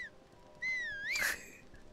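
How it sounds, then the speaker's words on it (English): A rising-and-falling whistled tune in Zelda: Tears of the Kingdom, one clear sliding whistle that swoops up near the end over a quiet game background. "I whistled by accident."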